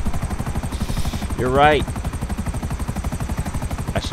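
Helicopter in the video game GTA 5, smoking and damaged: a steady, rapid rotor chop continues throughout at moderate volume while a voice speaks briefly over it.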